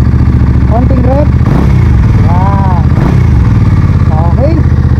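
A Benda Napoleon 450cc motorcycle engine idles steadily and is revved twice in short bursts, close and loud, with someone talking over it.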